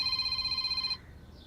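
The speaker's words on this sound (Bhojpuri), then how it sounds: "ए दुल्हन, फोन बाजता" A phone rings indoors with a bright electronic ringtone, steady and close for about a second before cutting off abruptly, with no talk.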